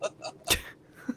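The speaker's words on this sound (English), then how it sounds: "chill out with the sneezing" One sharp sneeze bursts out midway, loud and abrupt, framed by faint breathy vocal sounds before and after it.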